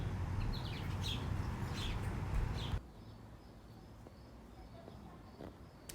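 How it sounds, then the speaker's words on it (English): Small birds chirp in a backyard garden, a few high, brief calls over a rustling outdoor background, with insects trilling faintly; the scene quiets noticeably partway through. "It's so nice when the birds stop by."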